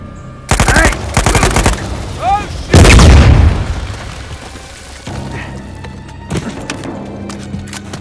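Gunfire in the Uncharted 4 video game during a firefight with a sniper: loud bursts of rapid shots and heavy booming impacts, with gaps of quieter background ambience between the volleys.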